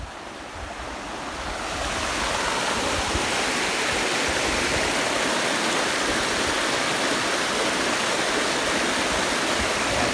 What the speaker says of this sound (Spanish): Está pasando agua para este lado.